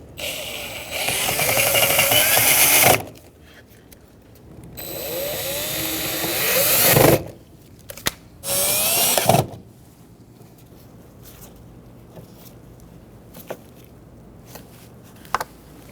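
A power driver runs screws into the front power window regulator of a 2000–2007 Ford Taurus, sounding as three loud whirring bursts of a few seconds each with pauses between, followed by quieter clicks and handling noise.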